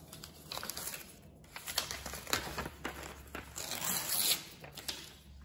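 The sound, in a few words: paper being torn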